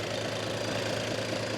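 A Toyota Land Cruiser diesel engine runs at a steady idle after starting without glow plugs, a continuous close, loud rumble with a knocking edge and no pauses or voices.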